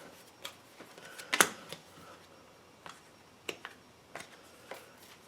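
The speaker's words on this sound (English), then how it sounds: "we're still kind of shuffling it up" A deck of tarot cards being shuffled in short, scattered riffles and taps, close and fairly quiet, with one sharper flurry early on and small clicks spaced through an otherwise hushed room.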